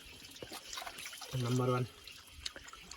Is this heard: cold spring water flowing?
yes